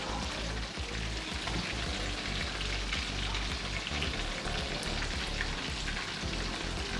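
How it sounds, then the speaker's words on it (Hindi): Fried fish pieces going into a simmering spicy Bihari-style curry gravy in a pan, a steady dense sizzling and bubbling hiss throughout with faint stirring taps and no talk. "अब इसमें फिश डालेंगे, फिर डालेंगे और फिर जो भी पूरी फ्राई तरह। किया हुआ फिश है उसमें डालेंगे।"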